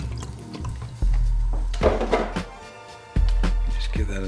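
Broth poured into a pot of spicy Korean-Chinese seafood soup (jjampong), a steady close liquid splash and trickle with a few sharp knocks and clunks of the pot breaking it up.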